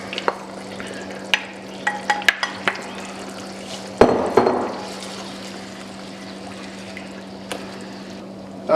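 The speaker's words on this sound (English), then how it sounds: "So in now with the rest of the coconut milk." Coconut milk being stirred into a red Thai chicken curry in a pot, with a low steady simmer hum, scattered clinks and scrapes of a spoon, and a louder splash of liquid pouring in midway.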